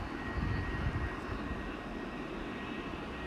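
A Boeing 727 jet taxis toward the runway in a flight simulator, with a steady, fairly quiet engine roar and hum. The whine stays constant with no talking.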